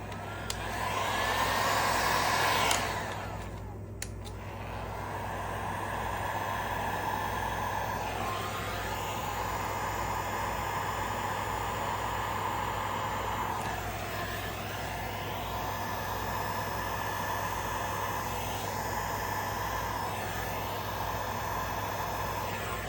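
Air blown steadily over freshly poured resin, a loud continuous broadband rush like a hair dryer, briefly cut off and restarted near the start, then holding steady with slight sweeping changes as it moves across the surface.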